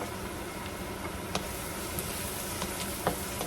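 Garlic frying in a pan, cooked for pininyahang manok after the onion: a steady close sizzle with small crackles and the odd utensil tap, no voices.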